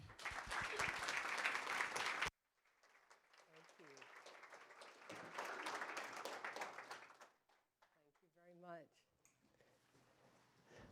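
An audience at a talk applauds to welcome CNN's Manu Raju and Professor Jane Hall, with a loud burst of clapping, a pause filled with voices, then a second wave of applause.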